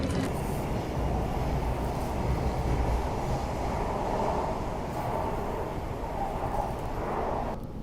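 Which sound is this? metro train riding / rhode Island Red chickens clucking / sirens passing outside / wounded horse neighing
metro train riding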